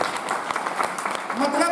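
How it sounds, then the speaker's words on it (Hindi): Seminar audience applauding in Varanasi, with a dense, steady patter of many hands clapping at close range throughout, and a voice rising underneath near the end. "तो एक जोरदार ताली बनती है।"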